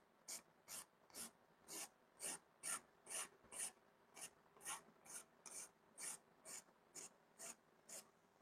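A nail file rasping across fingernails in a steady rhythm of about seventeen short, even strokes, close and quiet, with no talking.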